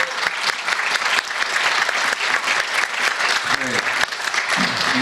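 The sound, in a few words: church congregation applause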